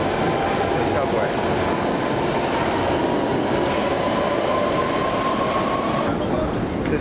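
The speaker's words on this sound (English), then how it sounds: "we're getting on another train to go toward where we get the free tickets. So this is the subway." A London Underground train rides with a loud, steady rumble, rolling wheel noise throughout and a faint metallic squeal rising partway through.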